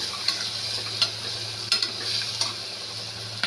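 Masala fries in a pan with a bright, steady sizzle, broken by several close spoon scrapes and clinks as it is stirred. There is no talking.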